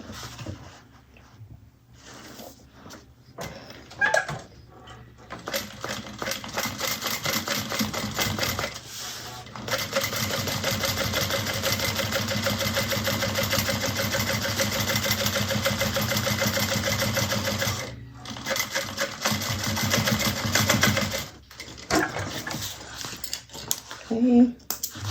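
A sewing machine topstitches along a bag's edge in a long continuous mechanical whir, with shorter stop-start bursts and clicks before and after.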